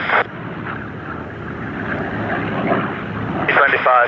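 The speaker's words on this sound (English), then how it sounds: "B-25 midfield for downwind to land." A B-25 bomber flies at an airshow, its broad steady engine drone holding throughout with wind buffeting the microphone and brief louder gusts at the start and end.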